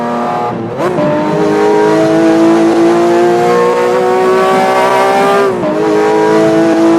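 A race car in a driving video game, its engine holding a loud, steady drone that shifts pitch as it lifts off and accelerates again, near and continuous with brief dips.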